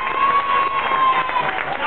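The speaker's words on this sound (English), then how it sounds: "a nice big round of applause for our comedian" A crowd at a junior talent contest applauds and cheers for a young comedian; steady, dense clapping and shouting fill the whole stretch at close range.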